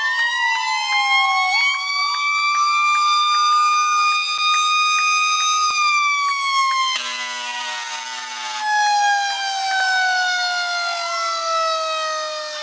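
Several wailing fire truck sirens sound together at a parade, loud and close, rising and falling in overlapping tones with no voices.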